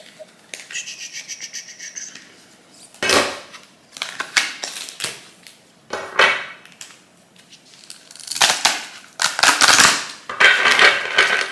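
Bursts of papery riffling and flicking as tarot cards are shuffled, several shuffles separated by short pauses, close and fairly loud with no talking.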